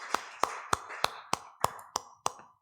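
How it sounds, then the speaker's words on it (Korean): A church congregation at a Sunday service claps together in a steady rhythm: eight sharp, evenly spaced claps about a third of a second apart, fairly faint and with no talking. "하나님 영광의 박수를 드리겠습니다"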